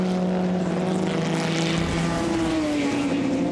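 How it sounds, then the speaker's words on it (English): A race car engine at the Scott Brown Trophy race roars loudly and steadily past, its pitch shifting as it goes by, with no talk over it. "And I hear a harder engine note."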